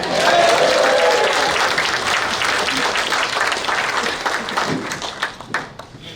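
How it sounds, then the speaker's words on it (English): Wedding guests burst into a loud, sustained round of applause that gradually thins toward the end, with a few scattered claps and faint voices mixed into the crowd noise. "I think that deserves a bigger round of applause."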